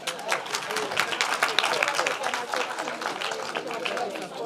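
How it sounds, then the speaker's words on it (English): An audience at a teachers' union provincial general council claps hands, a busy spread of overlapping claps with some crowd murmur and voices mixed in, sustained throughout at a fairly even level. "Can we clap hands for him?"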